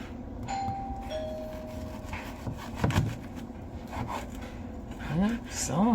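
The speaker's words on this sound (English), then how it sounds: "Doorbell ringing." A home doorbell rings with two clear chime tones near the start, faint behind kitchen clatter and rubbing sounds while low-carb beef and bok choy is prepared.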